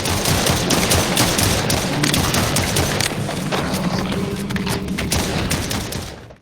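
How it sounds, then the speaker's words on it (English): Rapid gunfire and booming explosions from the indie VR wave-shooter Mutated Virus on Quest 2, a dense, continuous barrage of shots and thuds with no pauses, loud throughout and fading only at the very end. "All the explosions and gun blasts also sound satisfying."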